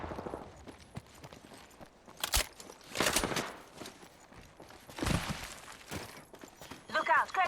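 Sharp bursts of gunfire from the video game Apex Legends crack out in a few loud clusters over a busy battle backdrop, with game voices underneath.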